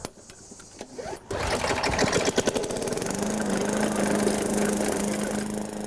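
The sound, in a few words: lawn mower engine running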